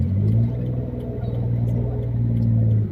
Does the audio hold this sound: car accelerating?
yes